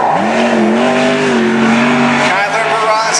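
The number 87 wingless sprint race car pulls onto a dirt oval racetrack at Cottage Grove during national qualifying, its engine droning loudly with a rising then falling pitch under an announcer's continuous commentary.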